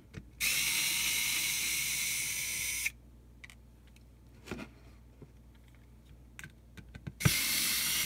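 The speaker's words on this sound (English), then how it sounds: "I'm going to switch back to the electric screwdriver to save a little bit of time." Electric screwdriver backing screws out of a Young Living Desert Mist diffuser, two loud steady whirring runs of a few seconds each, with small clicks and handling knocks between them, close up and without speech.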